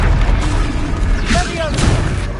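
A Confringo spell goes off in Hogwarts Legacy as a booming, fiery blast with a sharp swell of crackling noise, set among game effects and ambient sound.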